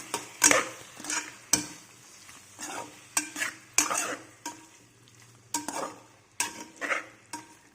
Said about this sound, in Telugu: ఇప్పుడు టమాటోస్ వేసుకుందాం. ఇలా వేసుకున్న తర్వాత ఒకసారి కలిపేద్దాం.